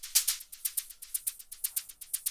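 Isolated hi-hat pattern from an electronic track's intro, a quick steady run of bright, crisp ticks with slightly varying accents, fairly quiet and alone with no other instruments.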